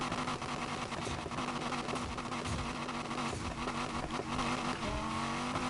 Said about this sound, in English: This car is making way too much noise right now.